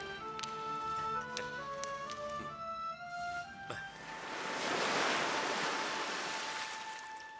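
Surf washing on the shore of the vast underground Lidenbrock Sea in an adventure drama set deep inside the Earth, a broad rushing wash that swells loudly to a peak and then eases. Sustained music tones run over it at first.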